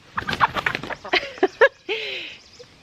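Several chickens cluck in short, irregular bursts close by, followed by a longer drawn-out squawk near the end.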